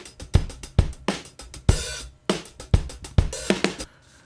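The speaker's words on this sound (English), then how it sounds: "lifeless and otherwise fairly normal sounds like this drum loop" A Vintage Funk Kit 4 drum loop from Logic Audio plays a dry, funky groove of punchy kicks, snappy snares and crisp hi-hats in a steady repeating pattern, heard alone and up close.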